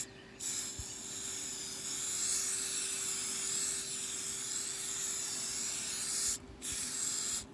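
A continuous aerosol spray paint hiss sprays steadily into water for several seconds, briefly cutting out once near the end before resuming, close and fairly loud.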